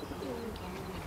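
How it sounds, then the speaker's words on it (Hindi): Pigeon cooing from a top-quality Banarasi pigeon, a soft, low, rounded coo heard close by over steady background noise. "क्या बेहतरीन कबूतर है, एक नंबर कबूतर"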